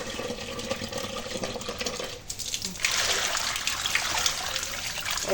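Tap water runs and trickles over a frozen fish head in a kitchen, a soft steady stream that grows brighter and fuller partway through, close by with no talk.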